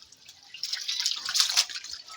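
Water running from a low tank tap while containers are filled, a steady splashing hiss that swells and grows louder midway, with no talk.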